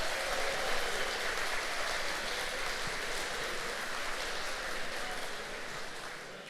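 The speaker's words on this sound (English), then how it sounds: "Let's give them a huge round of applause." Steady, dense applause from a large audience at a State of the City breakfast event in Franklin, a continuous hiss-like wash of clapping that holds evenly and tapers slightly at the end.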